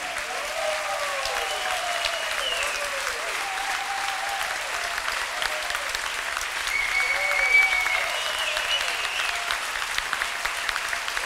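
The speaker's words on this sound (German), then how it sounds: "Den wollen wir noch mal einen ganz, ganz großen Applaus schenken, bitte" An audience applauds the Gallus school pupils after their musical performance on stage: steady, dense clapping from a large crowd that holds evenly throughout, with faint voices mixed in.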